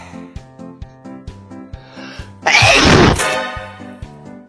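One loud, close sneeze bursts out over a steady looping rhythmic beat, with short breathy sounds before and after it.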